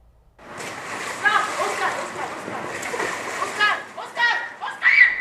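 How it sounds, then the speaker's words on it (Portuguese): A six-year-old child falls into a swimming pool, and a sustained splashing, churning water sound follows, fairly near, with a voice and other voices rising above it toward the end. "Um vídeo impressionante mostra um momento aterrorizante em que uma criança de 6 anos cai na piscina"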